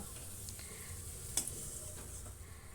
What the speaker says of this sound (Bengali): প্রথমে কয়েক টুকরো আলু ভেজে তুলে নেব